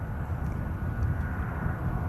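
An airliner climbing steeply after takeoff at Manchester Airport gives a steady, fairly loud low roar of jet engines that holds without a break.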